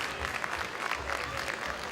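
Brief burst of warm applause for guests at a Pakistani community Independence Day celebration in New Zealand, dense clapping from a crowd filling the whole moment.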